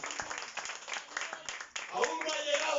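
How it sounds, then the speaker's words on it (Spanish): A church congregation claps during a Spanish-language sermon, quick scattered handclaps mixed with voices and a rising murmur, the clapping thinning as the sound turns fuller and more voiced toward the end. "Dale un aplauso al Señor."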